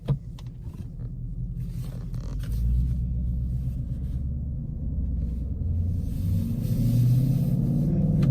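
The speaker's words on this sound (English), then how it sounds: "the cabin noise, he does have a catback exhaust on here, so it is quite loud" Interior of a 2017 Ford Mustang GT with the 5.0 Coyote V8 and an aftermarket catback exhaust, cruising with a loud, steady low rumble that swells as the car accelerates, with no talking.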